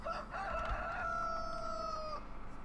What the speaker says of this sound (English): Now here we have the rooster over here.